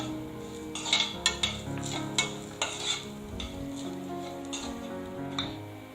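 Grated coconut and sesame seeds roast over a low flame in a pan, with soft, dry sizzling beneath a scattering of light spatula taps and scrapes.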